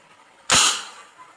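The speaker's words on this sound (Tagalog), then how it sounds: "So ito yung putok pag walang bala." An air rifle with a 3x9x40 scope, normally loaded with 8mm steel balls, is fired empty: one sharp, loud crack that decays quickly over faint background noise.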